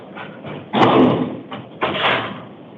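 A courtroom door swings shut with two heavy, muffled thuds about a second apart, loud and close, with soft handling noise around them.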